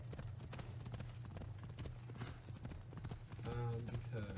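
Horse hooves clip-clop steadily on a road in the video game Assassin's Creed Odyssey, a continuous rhythmic patter under game music and voices, with a louder passage near the end.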